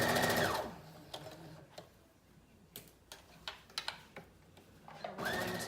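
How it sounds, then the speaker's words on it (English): A sewing machine stitches a 5/8 inch seam along the armholes and neckline of a lined Simplicity 8637 wrap dress. A short whirring run opens and another closes, with light clicks and handling taps in the quiet between. "we're gonna sew in a 5/8 inch seam the armhole openings and the neckline"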